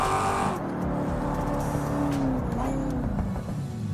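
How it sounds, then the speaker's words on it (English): A custom-built Ravix car in a vehicle game runs a braking test, its engine droning steadily and then tires scrubbing and squealing as the car slows. "Now this is a braking test."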